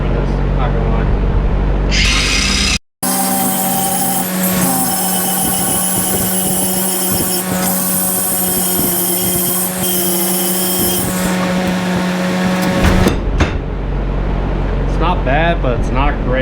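Angle grinder grinding down welds on a garden tractor sleeve hitch, a loud, steady, close whine of metal on metal lasting about ten seconds with a brief cut-off, then stopping as a voice speaks.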